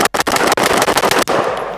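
Rapid bursts of AK rifle fire from a PSA AK102, loud and close, with sharp shots in quick irregular succession and brief gaps between strings.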